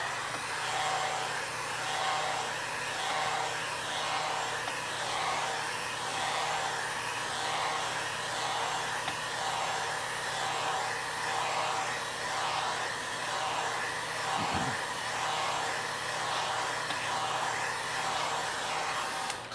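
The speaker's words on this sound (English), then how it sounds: "We use a hair dryer, and a hair dryer can dry the paper a little quicker" A hair dryer drying watercolor paper blows steadily for the whole stretch, a constant loud whooshing hum with a slight wavering, and a brief low thump partway through.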